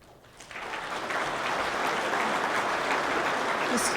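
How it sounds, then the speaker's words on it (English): Sustained audience applause fills a public hearing room, building quickly after a brief quiet start and holding steady and loud to the end, a dense wash of many hands clapping with no clear voices on top. "Wait till the applause is a little quieter, and then you can go."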